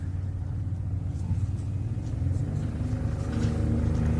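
A Polaris off-road competitor vehicle at a 4x4 adventure park off-road race rumbles steadily, its engine a low, continuous throaty drone that swells slightly over a few seconds.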